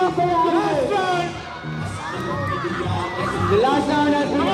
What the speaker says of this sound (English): Everyone, please cheer for your astronauts.